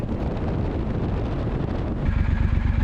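A decatted Triumph Scrambler 1200 motorcycle rides along with steady, loud engine drone buried in heavy wind buffeting, the low exhaust pulsing growing stronger and more throbbing toward the end.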